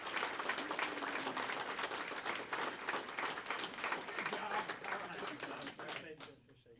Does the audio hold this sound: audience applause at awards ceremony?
yes